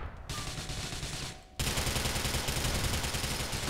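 Gunfire in a GTA IV multiplayer match crackles as dense, loud continuous automatic fire, a sustained rattling barrage that briefly thins and then surges back louder and closer.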